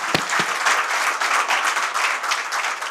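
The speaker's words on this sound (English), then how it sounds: "give Pete a round of applause" An audience breaks into sustained applause, many hands clapping in a dense, even wash, with a couple of sharp claps near the start.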